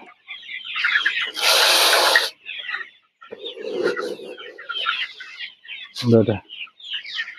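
Colour bird chickens cluck and call close by in a poultry shed, with scattered clucks, a harsher burst of noise and a person speaking in between.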